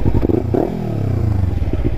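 Kawasaki Ninja 300 motorcycle fitted with an Akrapovic exhaust, revving loud and close with a deep, throaty tone and a brief rise and fall in pitch.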